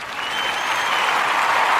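A round of applause swells steadily and loudly from a crowd, continuous clapping with no talk over it.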